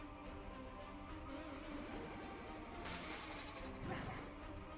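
Goat bleating in the Super Chibi Knight video game: a few short, wavering bleats over busy game music and effects, moderately loud, with no talk.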